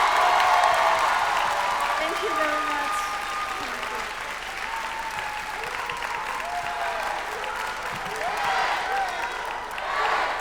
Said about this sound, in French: on applaudit Yoshiki pour avoir été ici avec nous